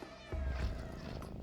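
A cat in the video game Stray lets out a short meow over a background of game music and ambience, the call fairly close and moderately loud.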